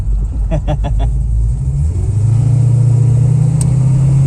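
Inside a cruising Holden Torana, a few engine revs give way to a loud, steady low exhaust drone that holds on continuously.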